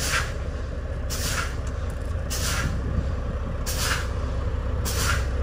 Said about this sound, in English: pump the service brakes to lower the pressure